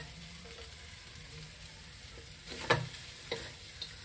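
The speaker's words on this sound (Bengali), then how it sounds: "পুরো সাবুগুলো মিশিয়ে দেব" Sago is mixed in a pan with a faint background sizzle, then a few distinct scraping and clinking stirs near the end, quiet and close, with no talking.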